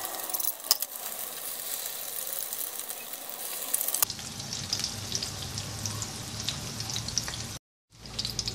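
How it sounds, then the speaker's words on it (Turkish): Egg-dipped bread fries in hot oil in a pan, giving a continuous loud sizzle and crackle that shifts as more pieces go in, with a brief pause near the end and no talking. "Yumurtalı ekmeklerimizi yağımıza koyuyoruz. Yağ kızmış,"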